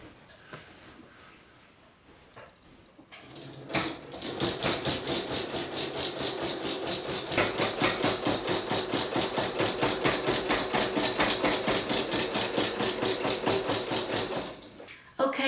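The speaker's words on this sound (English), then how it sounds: "when you're using your walking foot, don't have your speed set at the highest speed on your machine" A sewing machine quilting with a walking foot runs at medium speed in one long continuous burst, a rapid even chatter of needle strokes after a few quiet handling sounds, stopping abruptly near the end.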